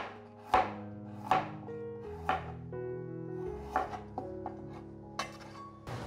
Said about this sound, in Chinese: 切成姜片。